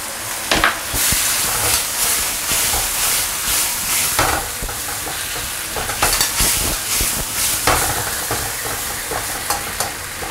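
Luncheon meat, shrimp and fatty beef slices sizzle and fry in a pan with hotpot ingredients, a steady loud crackle broken by repeated stirring scrapes and clatters, with no talking.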